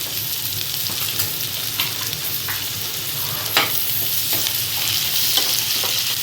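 Food sautéing in a pan with a little rock salt, a continuous close sizzle broken by scrapes and clinks of stirring, with no voices.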